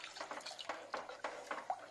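Water poured into a pot of unnithandu rasam after tamarind water and crushed spices: faint splashing and trickling in short uneven bursts, quiet and close.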